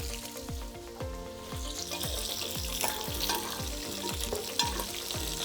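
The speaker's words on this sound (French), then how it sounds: "je mets tout le reste du potimarron et je vais faire suer ça gentiment" Pumpkin (potimarron squash) and other vegetables gently sweating in a hot pan, a steady soft sizzle with repeated low stirring scrapes and knocks roughly every half second, close and continuous, no talking.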